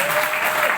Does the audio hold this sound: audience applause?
yes